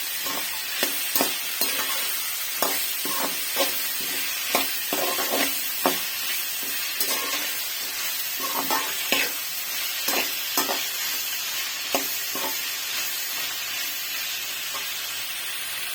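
Garlic and bottle gourd sauté in a pan for chutney, a steady close sizzle and hiss broken by regular sharp clinks and scrapes of a stirring spoon, roughly one every second or so.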